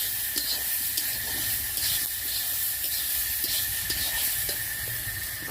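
Ginger and cumin pastes sautéing in a pan for a prawn and banana-flower dish give a steady, close hiss and sizzle with faint stirring scrapes throughout.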